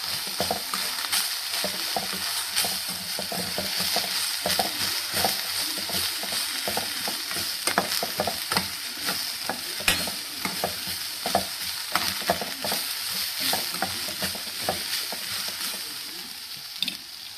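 Repeated scraping and clattering of a utensil stirring chana dal and cabbage frying in a pan over a steady sizzle, close and continuous, with no voices.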